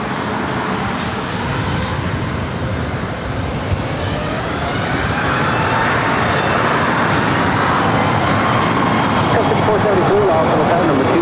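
A jet airliner takes off from runway 24 right at LAX, its engines a loud, continuous roar that builds and broadens as it accelerates, with no voices over it.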